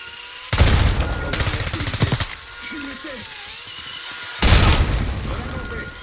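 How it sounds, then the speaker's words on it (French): Two loud blasts go off in a Black Ops 6 combat scene, with rapid gunfire bursts between them and a voice calling out after the first. "Grenade, attention!"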